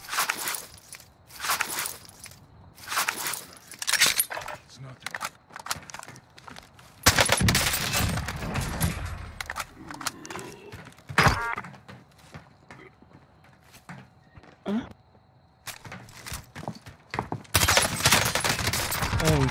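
AK rifle fire rings out in the shooter game Modern Warfare Warzone, with loud rapid bursts and fusillades repeating across the stretch, mixed with footsteps and other game noise while players talk over it.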